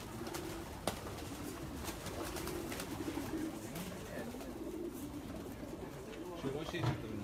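Racing pigeons coo in soft, repeated low rolling calls throughout, heard close by under people talking in the loft.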